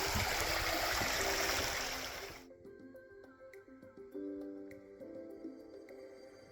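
Brown Creek in a California redwood forest flows with a steady broadband rush that fills the first couple of seconds, then drops away abruptly to a quieter, faint background with a few light clicks.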